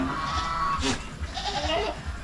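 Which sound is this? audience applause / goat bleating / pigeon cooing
goat bleating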